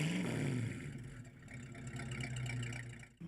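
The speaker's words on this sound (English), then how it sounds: "the best feature on this car is the power plant" A 1968 Sunbeam Tiger's engine revs, its pitch rising and falling, then settles into a rough, steady running note, close and fairly loud.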